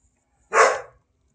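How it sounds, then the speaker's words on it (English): A single short, sharp yip from a Great Pyrenees puppy, close by and fairly loud, with quiet before and after. "that's my new puppy"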